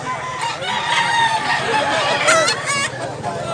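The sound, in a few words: rooster crowing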